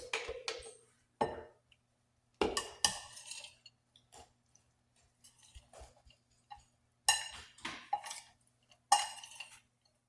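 Roasted asparagus and tomatoes are tossed with dressing in a dish, making scattered clinks and light scraping knocks in short bursts with quiet gaps between them.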